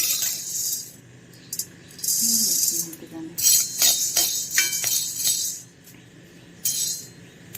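Jaggery being cut and placed onto a small plate: bright clinks, scrapes and small rattles of utensils and dishware come in bursts, separated by quieter pauses.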